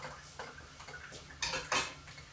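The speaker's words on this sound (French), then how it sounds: "Je vais poser la poêle." A frying pan is set down on a kitchen surface after a steak is cooked, giving a couple of sharp metallic clanks near the end, with light clinking and handling sounds beforehand.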